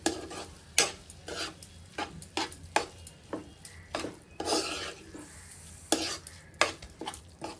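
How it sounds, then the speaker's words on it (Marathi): Masala for paneer bhurji stirred in a pan: steady rhythmic scraping strokes of a spoon against the pan with a soft sizzle underneath, quiet and close, with no talk. "चांगलं ढवळून व्यवस्थित मसाला ढवळायचा"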